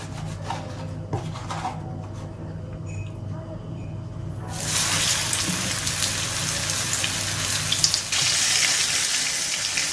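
Crucian carp sizzle as they hit hot oil in a frying pan, a soft crackle that swells into a loud, steady hiss after a few seconds, with a low hum underneath.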